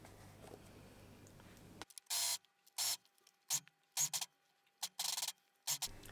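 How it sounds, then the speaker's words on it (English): An overlocker stitches jersey fabric for baby leggings in short bursts, each run a loud mechanical whir lasting a fraction of a second, separated by brief pauses after a stretch of quiet room noise. "especially if you're sewing it on your overlocker and you have your cutter down"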